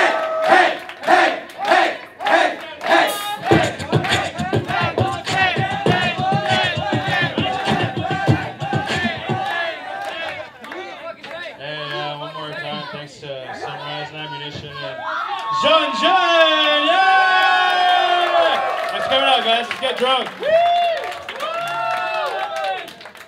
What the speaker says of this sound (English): Everybody give it up for Hank